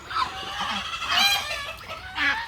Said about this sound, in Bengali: আমার ফার্মে যে চীনা হাঁসগুলো আছে